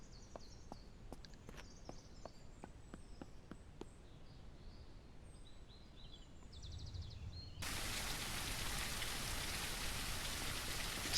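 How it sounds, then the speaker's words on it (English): Rain in a zombie survival video game, first a light patter with sparse drips, then a steady loud hiss of downpour that rises partway through and keeps going to the end. "Started raining while I was doing inventory stuff."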